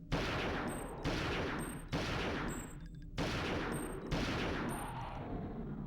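Five rapid bursts of gunfire in a video game fight against an attack ship, each a loud sharp volley with a short decaying tail, evenly spaced about a second apart, with no talking.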